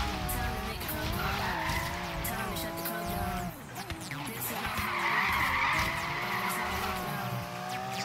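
Tires squeal steadily as a Ferrari drifts in the Forza Horizon 3 racing game, a continuous wavering screech over engine roar lasting the full stretch, with a brief dip midway before the skid resumes loudly.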